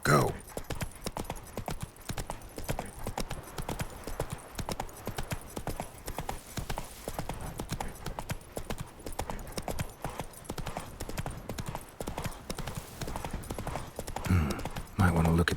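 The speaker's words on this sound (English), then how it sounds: "Whoa there, Roach" A horse gallops in The Witcher 3, with steady rapid hoofbeats running close and continuous throughout, slowing toward the end, while a voice speaks briefly.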